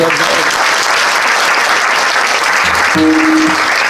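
An audience at a kirtan breaks into sustained applause, a dense wash of many hands clapping together, with a brief voice rising near the end.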